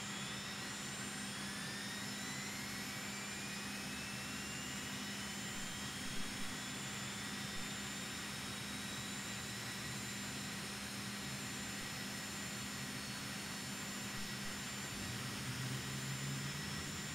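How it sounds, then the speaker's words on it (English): An airliner jet engine spinning up in X-Plane 11, a steady broadband roar with rising whine tones, continuous and fairly loud without talk. "Go ahead and spin up one."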